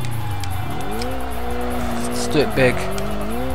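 Racing-game car with a big turbo held in long drift slides in Kaido Racer 2, steady engine drone with rising pitch sweeps and brief tire squeals near the middle, someone talking over it.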